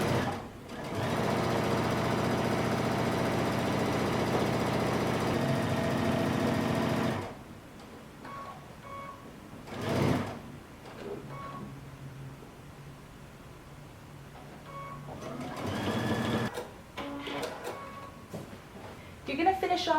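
A sewing machine stitches a side seam on a tunic, a steady close whirring run of about six seconds, then stops, followed by quieter handling sounds and a brief second burst later, with a voice talking.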